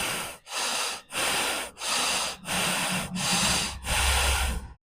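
Slow, steady breathing close up during Kundalini yoga, a series of long loud breaths with short pauses between them, about seven in a row with no talking.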